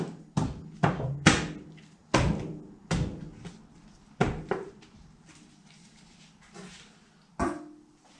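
Lid pressed back onto a tin of paint during a paint job on a Pinzgauer 716 British army truck: a run of heavy hollow thunks and knocks, irregular and close, with a couple of fainter taps near the end.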